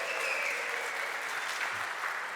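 Audience at a DevOps conference in Barcelona applauding, steady and even clapping throughout, moderately loud and uninterrupted by talk.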